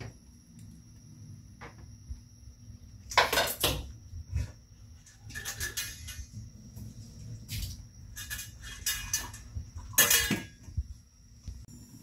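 A pot of pork adobo is stirred and covered in a home kitchen, giving a few clear metallic clinks and scrapes of a spoon and lid against the pot over a steady low hum, with no talking.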